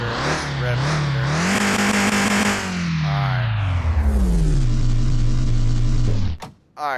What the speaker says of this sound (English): you really wouldn't rev up a car like that